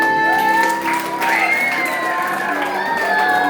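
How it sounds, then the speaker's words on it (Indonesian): Loud, continuous cheering and clapping from a crowd of schoolchildren at a Halal Bi Halal gathering at an elementary school, with shouts and whoops over the applause. "Tepuk tangan dulu yang meriah."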